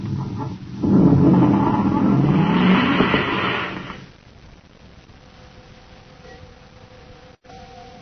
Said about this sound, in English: Duncan and Savage roar away in the commander's surface car